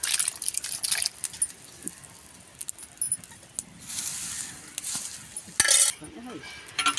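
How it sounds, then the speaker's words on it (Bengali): Cooked meat and potatoes are tipped into a pot of biryani rice, with metal spoon scrapes, clinks and wet sloshing sounds coming in irregular bursts, close and fairly quiet. "আর এটা মাংসটা পুরোটাই এখন ঢেলে দেওয়া হচ্ছে।"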